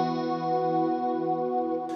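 A sustained chord rings out through the Spatium reverb of a GFI System SKYLAR pedal, holding steady and full before a brief bright burst at the end.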